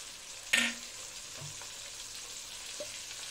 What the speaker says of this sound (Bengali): এগুলি কষিয়ে নেব